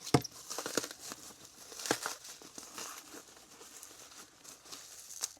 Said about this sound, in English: Ah, so much bubble wrap. Gonna be here all night, just trying to unwrap these.